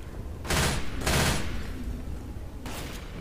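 Bursts of gunfire in Left 4 Dead 2 aimed at potted plants, two close loud volleys early on followed by a third shorter burst near the end, with no talking.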